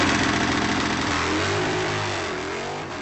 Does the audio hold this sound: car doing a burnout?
yes